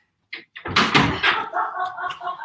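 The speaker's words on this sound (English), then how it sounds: "Hold on, I'm gonna shut this door" An interior door in a home living room is pushed shut, giving a few quick knocks and bumps and then a solid thump, followed by softer rattling and clatter close by.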